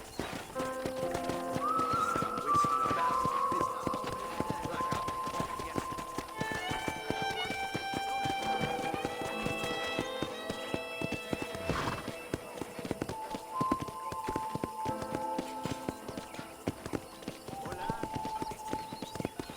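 Rhythmic hoofbeats of a galloping horse in Red Dead Redemption with occasional whinnies, over a soft musical backdrop and a voice speaking now and then.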